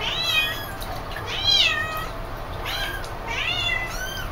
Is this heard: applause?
no